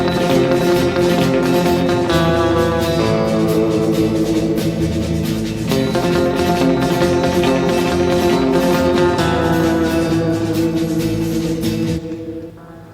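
Electric guitar played with the tremolo arm in constant use, sustained wavering chords and notes over a full backing, loud and continuous, then stopping abruptly near the end.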